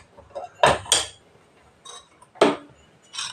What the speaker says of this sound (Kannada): ಈಗ ಒಗ್ಗರಣೆಗೆ ಬಾಣಲೆ ಇಟ್ಕೊಂಡಿದ್ದೀನಿ